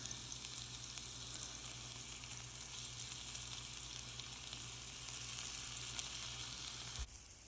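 Beef seekh kababs fry in a pan with a steady, even sizzle and fine crackle that carries on unchanged, then dips slightly near the end, with no talking over it.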